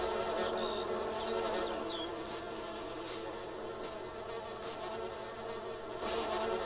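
A swarm of bees in Farming Simulator 19 buzzing in a continuous, even drone near at hand, with faint chirps and brief soft clicks scattered through it and no speech.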